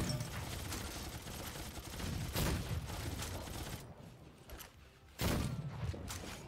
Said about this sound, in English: Watch out, he's shooting.